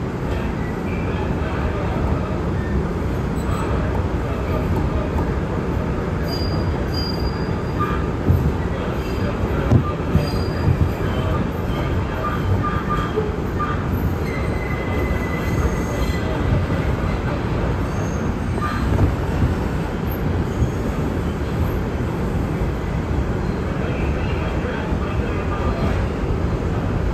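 An R142 subway train rides the IRT line between Flatbush Avenue–Brooklyn College and East 18th Street in Brooklyn, with a steady loud rumble, rattling wheels and faint squeals throughout, and a muffled voice in the car.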